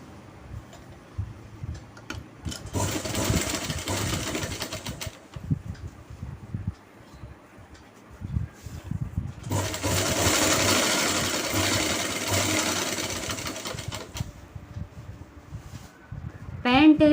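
A sewing machine runs in two sustained bursts while stitching the side seam of a pant bottom, its motor whirring with a fast ticking needle, close up, with quieter handling and pauses between the runs.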